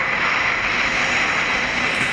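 Small light aircraft engine in a flight simulator game, cruising at about 130 knots toward a small runway; a steady, loud broadband drone holds evenly throughout with no talking.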